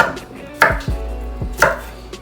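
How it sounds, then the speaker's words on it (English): A knife cuts broccoli into large florets on a board, a few loud separate chops with short thuds between them, close up and with no talking. "All right, get my broccoli cut up."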